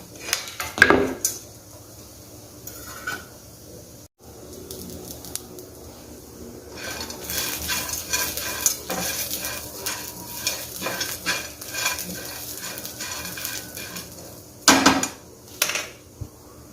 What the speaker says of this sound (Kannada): ಸ್ವಲ್ಪ ಶೇಂಗಾ ಪುಟಾಣಿ ಹಾಕಿ ಸರಿಯಾಗಿ ಇದನ್ನು ನಾನು ಹುರ್ಕೊಳ್ತೇನೆ